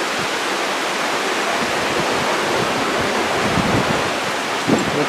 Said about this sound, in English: You can hear all the water.